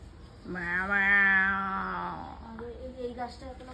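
A long, drawn-out cat meow rises and holds, followed by shorter, softer mews close by.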